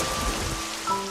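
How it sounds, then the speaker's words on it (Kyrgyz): Rain patters down steadily on a surface, a dense close hiss of drops filling the moment, with a faint tonal sound entering near the end. "Шатырап жаандын жааганын тынч жана жылуу үйүмдө ныксырап тыңшап угамын"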